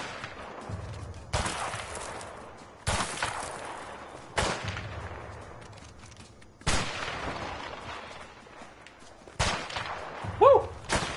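Gunfire in a video game rings out as about five sharp, loud shots spaced a second or two apart, each with a long decaying tail, plus a brief tonal effect near the end.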